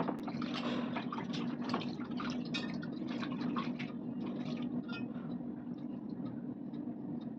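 Water is poured over small deity idols during a Thursday worship bath, a close continuous splashing and dribbling that stays fairly quiet and steady, slowly thinning toward the end.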